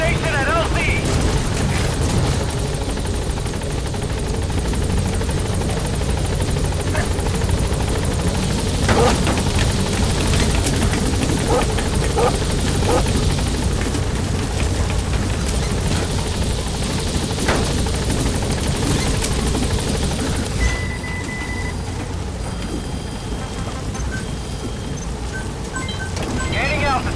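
The Pequod helicopter arrives in Metal Gear Solid V: The Phantom Pain with a steady, loud rotor and engine roar that runs unbroken throughout, while voices talk over it.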